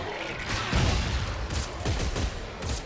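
Rapid gunfire from a weapon in the sci-fi horror game Dead Space 3, dense and continuous bursts of shots with loud booming impacts filling the whole moment.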